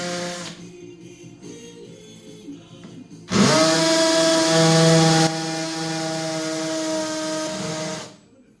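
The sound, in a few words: power drill making screw holes for surface-mount box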